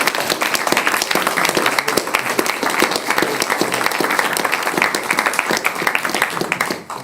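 An audience at a talk gives a burst of loud, brisk applause, many hands clapping densely and steadily for several seconds before it tapers off at the very end.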